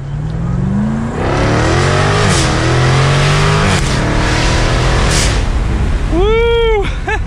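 A 2022 Jaguar F-Type R AWD convertible accelerating hard from first gear with the top down, the loud engine rising in pitch through several gear changes, with a sweeping whine near the end.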